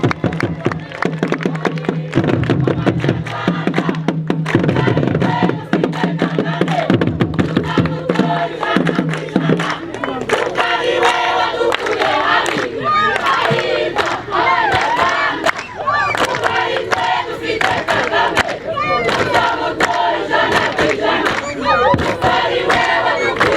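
A large outdoor crowd at a Rwandan community gathering in Rubona, Rwamagana, cheering, shouting and clapping in a dense, loud roar, with music and voices underneath early on before the crowd noise takes over.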